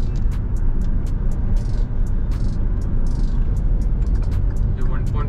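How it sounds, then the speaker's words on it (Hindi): A Hyundai Creta SX diesel with turbo engaged, accelerating hard in a low gear with a deep, steady engine drone and sharp clicks and ticks over it. "देखो टर्बो चालू"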